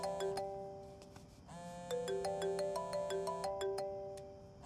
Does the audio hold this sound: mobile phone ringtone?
yes